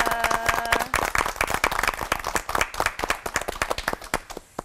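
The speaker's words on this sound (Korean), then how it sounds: "세 분 목사님께 뜨거운 박수 부탁드리겠습니다" A studio audience at a Christian TV lecture applauds three pastors, with sharp individual claps audible within a lively round that gradually thins toward the end.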